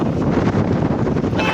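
Strong wind at Saputara hill station batters the microphone with a loud, continuous low roar and gusting flutter, close and unbroken with no talk.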